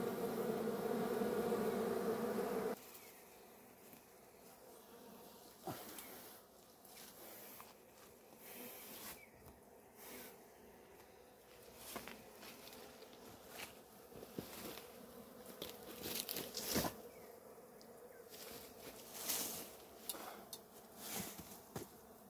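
Bees buzz around a honeycomb in a rock crevice, a loud close drone at first that turns fainter and patchier, mixed with scattered rustles and handling noises outdoors.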